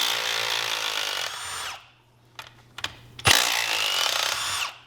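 A power tool gun loosens the case bolts on a Seadoo 951 engine in loud whirring bursts, a long run, then a pause with a few short clicks and buzzes, then another long whir.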